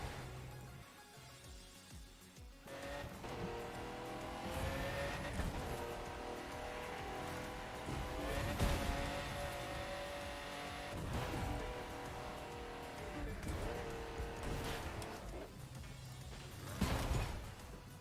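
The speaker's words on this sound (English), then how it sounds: "M8 no rules, worst car in the game?" A BMW M8 in The Crew racing game drives and slides along, its engine revving up and down with tire squeal and shifting tones under background game sounds, fairly quiet overall with no talk.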